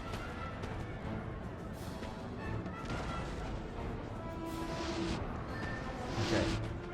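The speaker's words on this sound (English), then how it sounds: "Cannon ready, sir. 9-pounder ready." Dull booming cannon fire from 9-pounder artillery on a Napoleon Total War battlefield rolls under a dense, continuous wash of battle noise, with no single blast standing out clearly.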